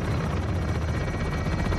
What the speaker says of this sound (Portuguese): Eu vi um helicóptero.